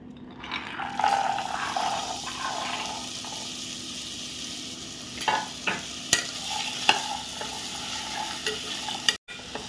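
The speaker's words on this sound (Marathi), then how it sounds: "हे सुद्धा आपण फोडणीमध्ये छान ढवळून घेऊया" Chickpeas are stirred through a coconut tempering in a pan, giving a soft sizzle with scraping and clinks from the spoon. The spoon strikes grow more frequent and louder toward the end.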